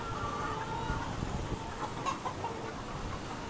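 Australorp chickens and roosters cluck softly amid steady background noise, with a few brief higher calls scattered through the short stretch.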